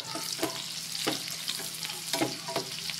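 Pork pigado fries in oil and is stirred in the pan, with a soft steady sizzle. Scraping stirring strokes come about once a second, and no one talks.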